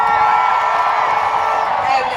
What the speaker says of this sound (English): Give us a cheer who played hockey at school.